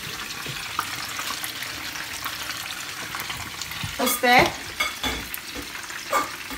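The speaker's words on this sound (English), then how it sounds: "We'll have some more Kentucky frying over there." Kentucky-style fried chicken sizzles in a pan on a home cooking setup, a continuous crackling hiss with stirring clatter and a brief question spoken over it.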